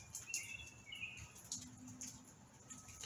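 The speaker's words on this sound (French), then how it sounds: "J'entends les oiseaux." Faint birds chirping outdoors, a few short high tweets and calls scattered over quiet background noise.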